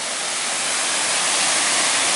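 Waterfall on the Eagle Creek Trail near Tunnel Falls, a loud steady broadband roar of rushing water, close and continuous with no talk.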